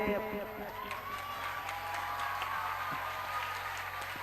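Audience applause after a short stage play performance, fairly quiet and distant, a sustained patter of clapping with scattered cheers and voices mixed in.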